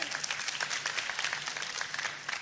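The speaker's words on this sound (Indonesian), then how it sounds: "Oh, kita kasih tepuk tangan yang paling meriah." Church congregation breaking into lively applause, a dense wash of many hands clapping steadily throughout, moderately distant and fairly quiet.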